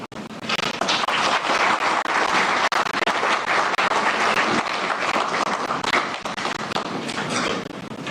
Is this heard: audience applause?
yes